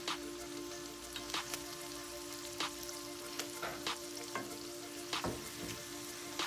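Lamb chops sear in a hot pan while being basted with rosemary and thyme oil, giving a steady close sizzle with scattered sharp spits and pops.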